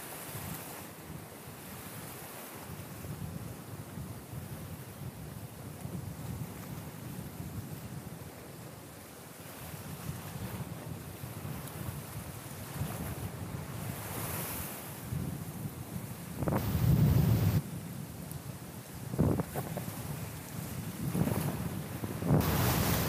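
Strong wind buffets the microphone while waves surge and slap around a small fishing boat at sea, a steady roar with louder gusts near the end.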